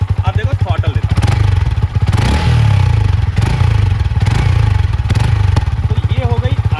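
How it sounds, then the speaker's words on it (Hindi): A Yamaha R15 motorcycle engine idles with a steady pulsing rumble, then is revved hard with the throttle into a loud, sustained roar that rises and falls before settling back to a throbbing idle, close by. "तो ये हो गई R15 की आवाज़।"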